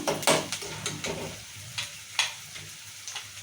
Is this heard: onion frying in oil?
yes